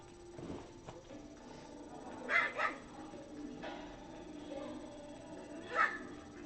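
A dog gives a few short barks, a close pair and then a single bark a few seconds later, fairly faint over a steady background hum and muffled voices.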